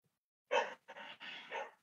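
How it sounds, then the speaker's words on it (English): A dog barks a few times in quick succession, somewhat distant and muffled, then goes quiet. "Trying to get my dog to stop barking."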